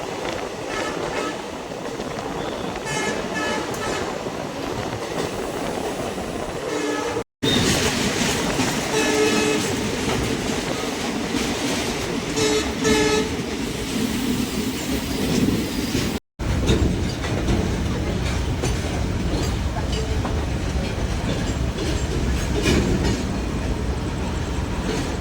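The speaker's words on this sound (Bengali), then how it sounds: "আমাদের ট্রেনটি প্রায় 6 কিলোমিটার পথ অতিক্রম করে এসে বসলো এখন কামাখ্যা জংশনে" A diesel passenger train runs from Guwahati toward New Bongaigaon, its wheels making loud, continuous rumble and clickety-clack, with horn blasts and brief squeals heard up close. Two short dropouts break the sound.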